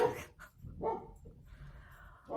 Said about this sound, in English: Sorry if you can hear one of my dogs barking.